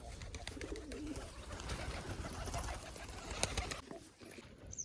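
A flock of pigeons gathers to eat scattered grain, with soft continuous cooing and faint wing flutters close by, several birds overlapping, no one speaking.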